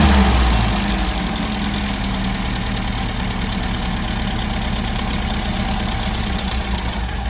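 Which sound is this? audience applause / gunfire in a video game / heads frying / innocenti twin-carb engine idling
innocenti twin-carb engine idling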